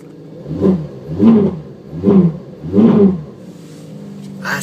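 A Ferrari 458 engine revs in four strong, evenly spaced blips, each rising and falling, loud and close, before settling to a steadier idle.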